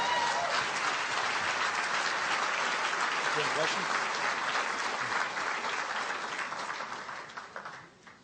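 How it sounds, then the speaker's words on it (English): An audience at an event applauding actors, dense sustained clapping from a large crowd that fades out toward the end. "Big clap for them. Come on, big applause for them."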